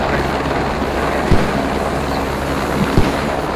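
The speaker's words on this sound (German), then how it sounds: "kannst du den Hubschrauber irgendwie wegbringen? Er ist viel zu laut, ich höre mein Wort nicht." Helicopter in a video game, a loud, steady rotor and engine roar filling the whole stretch, with a couple of faint thuds and no talk over it.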